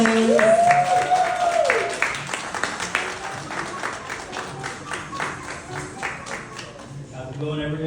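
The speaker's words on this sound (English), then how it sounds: "give a warm round of applause to Oscar Gomez" A comedy crowd claps and cheers as a comedian is introduced, moderate applause that tapers off while a voice talks over it.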